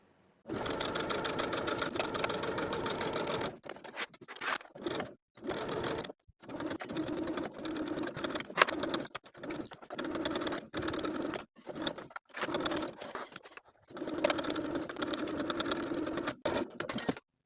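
A sewing machine runs a dress seam with a 5/8 inch allowance, loud close bursts of rapid whirring stitching that stop and restart several times, with short quiet pauses between runs.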